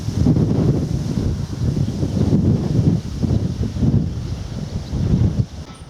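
Steady wind gusting and buffeting close to the microphone, a low rumbling roar that swells and eases throughout.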